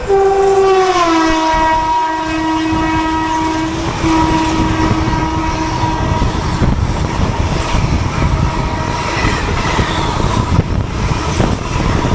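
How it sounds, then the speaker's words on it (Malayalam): Tirupati–Coimbatore Intercity Express train passing at dusk near a station, opening with a loud, sustained horn blast that drops in pitch, then a heavy rolling rumble and clatter of wheels close by. "തിരുപ്പതി കോയമ്പത്തൂർ ഇൻ്റർസിറ്റി എക്സ്പ്രസ് ആയിരുന്നത്."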